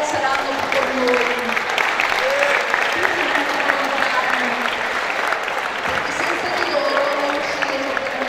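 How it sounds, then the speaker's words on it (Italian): Audience applause for volunteers at an evening village food festival, the Sagra dal Caplaz in Coronella, a steady dense clapping from a crowd that holds for the whole stretch, with faint voices mixed in. "vorrei fare un applauso ai nostri volontari che questa sera saranno con noi."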